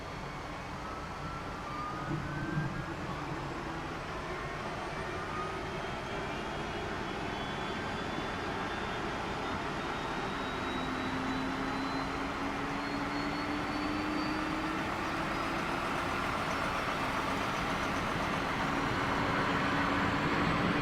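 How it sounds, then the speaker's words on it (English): Auxiliary power unit of an Airbus A321neo starting and spooling up in the X-Plane 11 flight simulator, a steady loud turbine roar with rising whining tones that climb slowly and build over about twenty seconds. "APU is spooling up"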